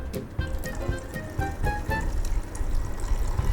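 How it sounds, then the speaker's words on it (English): Paint thinner pours into a bottle in a steady gurgling stream, with bubbly glugs and small clinks from the container, close up and moderately loud. "Then pour the rest of the thinner into the bottle."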